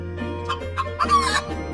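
A rooster and hen on a farm let out a quick run of close, loud clucks building into a short strained crowing call, with no one talking.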